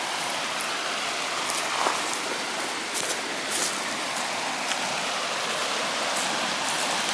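A boulder waterfall at high water on Buffalo Creek pours steadily, a dense, even hiss of rushing water filling the whole stretch with no pauses.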